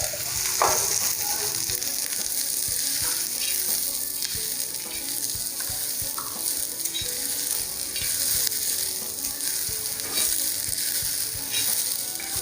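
Sliced onions sizzle steadily in hot oil in a pan, a dense, continuous frying hiss with small crackles throughout, fairly loud and close, with no talking.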